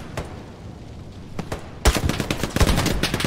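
Gunfire in Hell Let Loose: a few scattered distant shots, then a sudden burst of loud, rapid close-range automatic fire crackling over the last second and a half.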